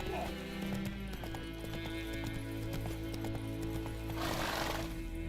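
Roach, the horse in The Witcher 3, gallops with steady clip-clopping hooves and lets out a neigh near the end. Game music plays underneath, and a voice talks over the sound.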